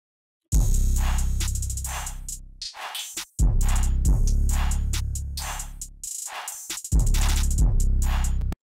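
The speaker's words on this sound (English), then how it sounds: "I'll play the full drums for you guys." A war-type trap beat's full drum pattern, built from a Phoenix 4K drum kit, plays loud and punchy with heavy booming 808s and sharp crisp hits, briefly cutting out in dropped gaps between sections.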